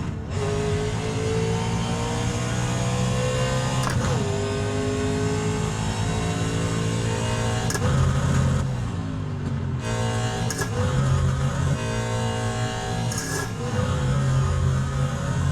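A racing video game car engine revs and climbs through the gears with a sim-racing shifter, pitch rising and dropping at each of several shifts, loud and continuous with no talk.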